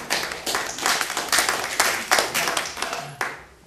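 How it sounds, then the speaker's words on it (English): Scattered audience clapping at a community library meeting in Friern Barnet, a modest crowd applauding in uneven bursts at moderate distance, with no talk over it. "I think it's to be applauded"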